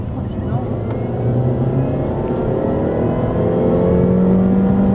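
A rally car accelerates at full throttle on a Scotland road trip, its engine note rising steadily from inside the cabin as a loud, continuous drone. Voices speak briefly over the engine.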